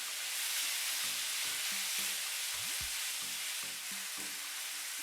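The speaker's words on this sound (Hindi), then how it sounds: "तमाम मसाला जात को चिकन के साथ अच्छे तरीके से भून लेंगे।" Chicken fries in a pan with chili powder, salt, dried coriander and black pepper, giving a loud, continuous sizzle while a simple tonal melody plays underneath.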